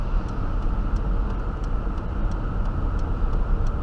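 Steady, loud engine drone and road rumble from a truck losing power and barely reaching 3,000 RPM, driven slowly under 20 with its hood open but latched; continuous with no voices.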